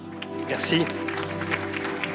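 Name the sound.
audience applause at an award ceremony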